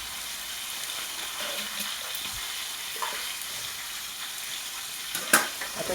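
Crushed roasted peanuts go into sabudana khichdi frying in a pan, giving a steady low sizzle with soft stirring scrapes and a brief louder clatter near the end, no voices.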